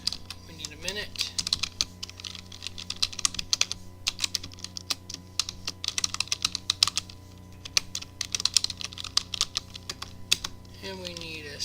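Typing on a computer keyboard, with steady rapid clicking of keys up close throughout, and brief faint speech near the start and end.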